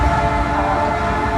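Canadian Pacific Holiday Train whistle blowing as the train rounds a bend, a loud, steady, sustained tone heard close up with rail rumble beneath.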